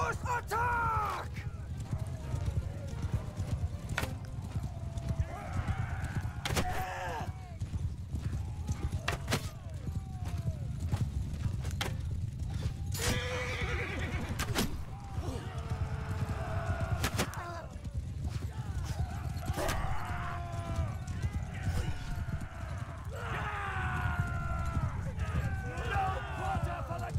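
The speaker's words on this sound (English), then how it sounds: "Horse attack!" Galloping horses with clip-clop hooves and occasional whinnies in the Mount & Blade Bannerlord battle game, a steady thundering charge heard under constant shouting voices throughout.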